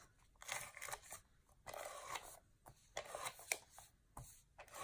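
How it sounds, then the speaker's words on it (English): A tape runner applies adhesive to a paper card in a craft setting: faint, close, intermittent crinkly dispensing and rubbing strokes in short bursts, quiet throughout. "I'm going to use my tape runner for this"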